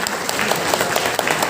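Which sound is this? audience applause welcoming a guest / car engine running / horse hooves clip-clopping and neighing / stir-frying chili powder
audience applause welcoming a guest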